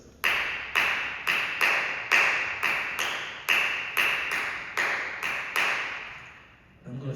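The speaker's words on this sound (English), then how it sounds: "We have something in our community called a Gullah rhythm or a Gullah clap." Gullah clapping beats out a steady rhythm of a dozen or so sharp hand claps, each ringing briefly into the next, close and clear with no talk.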